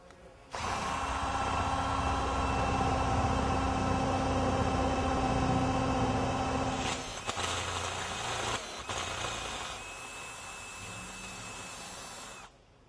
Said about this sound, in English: So we're going to go ahead and drill this through.